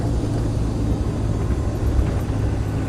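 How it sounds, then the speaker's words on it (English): A Land Rover 90 with a 200TDi diesel and 183,000 miles driving along, a dense steady low rumble of engine and road noise from inside the cab, with a faint drivetrain whir folded into the drone. "there is a slight whirring noise which you can probably hear"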